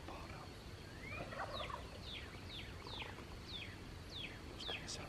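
Young male wild turkeys gobble close by in a Texas creek bottom, a string of repeated gobbles, fairly faint against a steady outdoor background.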